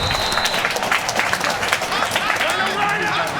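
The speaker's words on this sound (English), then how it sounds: "We got a rowdy crowd here" A rowdy live crowd at a Madden 18 Challenge Championship game roars and claps continuously, loud and close, beneath an announcer talking over the noise.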